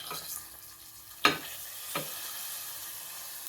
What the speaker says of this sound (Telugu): దీన్ని పులుసులో కలిపేసుకుందాం